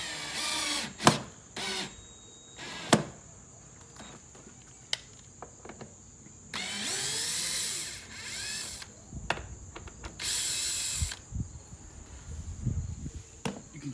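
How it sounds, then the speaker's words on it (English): A power drill drives long screws into a door jamb to reinforce it, in several short whirring bursts separated by knocks, clicks and quiet pauses. "And we're just gonna screw the new one in."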